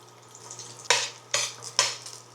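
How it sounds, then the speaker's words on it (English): Garlic sautéing in a pan gives a soft, continuous sizzle, broken by three sharp scraping stirs of a utensil against the pan at roughly half-second intervals, close and alone with no talking. "saute the garlic until light golden brown"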